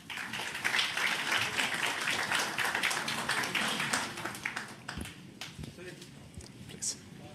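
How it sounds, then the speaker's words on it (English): A forum audience at an official government event applauds, scattered clapping that is fairly full at first and then thins into sparse claps, with a voice audible over it. "Let's give a big applause to this forum."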